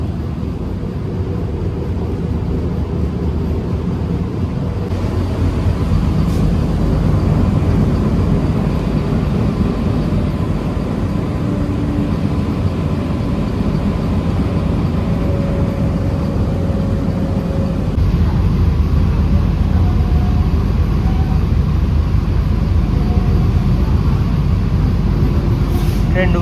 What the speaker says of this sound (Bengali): ট্রেন ঢুকছে দমদম।